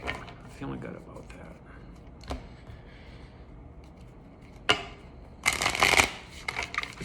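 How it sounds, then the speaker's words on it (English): A deck of tarot cards is shuffled close by, a few soft riffles and then a louder crisp flutter of cards near the end, with someone speaking quietly in between. "One last shuffle here."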